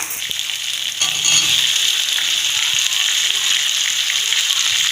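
Spice paste of onion, garlic, ginger, cumin, pepper and chili frying for a Bengali chicken curry with khoya kheer, a steady loud sizzle that swells after the first second and holds evenly, with no talk.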